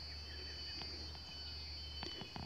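Cicadas buzz outdoors near a sugarcane field, a steady high drone running throughout, quiet and distant, with a few faint bird calls and soft patters scattered over it.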